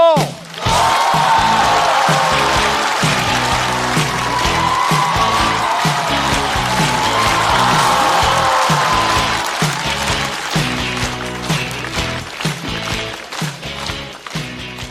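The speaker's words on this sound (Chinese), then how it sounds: "掌声欢迎大国手。" A stand-up comedy audience breaks into loud, dense applause welcoming a comedian on stage, sustained for several seconds and then thinning out into scattered claps, with a voice heard over it.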